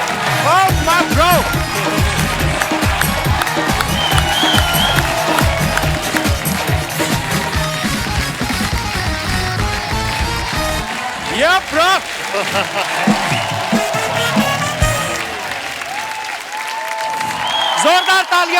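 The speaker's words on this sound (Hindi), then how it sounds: "जोरदार तालियां कार्तिक के लिए।" A studio audience at a comedy show applauds loudly as Bollywood actor Kartik Aaryan is welcomed, a sustained burst of clapping and cheering with a host talking over it before it tapers off.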